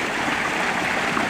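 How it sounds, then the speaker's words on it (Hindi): Water from a tubewell gushes steadily into a sugarcane field, a loud, continuous rushing and splashing flow close by with no talking. "बड़े ईख में चला रखी है ट्यूबवेल।"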